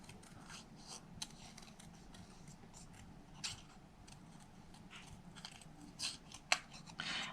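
Scissors snipping through paper to cut out pink paper flowers for a Cadbury chocolate bar box, a run of soft close rhythmic cuts and rustles with a few sharper snips near the end.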